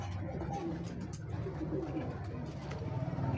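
Pigeons in a loft coo steadily and close by, with soft overlapping calls and faint rustling throughout and no clear speech.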